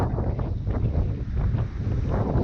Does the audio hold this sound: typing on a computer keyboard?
no